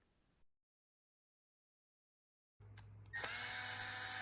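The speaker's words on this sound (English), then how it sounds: "Remove screws one at a time and set aside." A power drill whirs steadily at close range while backing out screws from a GopherHawk tool's strap set, starting after a silent pause and running continuously to the end.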